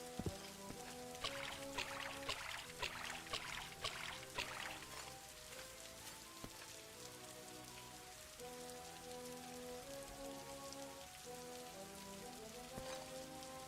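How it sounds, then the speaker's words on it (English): Rain falls steadily in Daggerfall Unity, a continuous soft patter and hiss layered over quiet background music with sustained tones. "Waiting in the rain."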